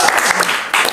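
Brief loud burst of audience applause at a talk, close and dense for about a second.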